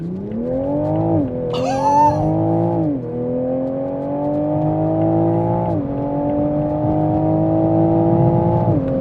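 A Toyota Supra Final Edition with BMW's 3-liter turbocharged B58 six accelerates hard with traction control on, the engine note climbing steadily through several gears with clear dips at each upshift, close and loud throughout.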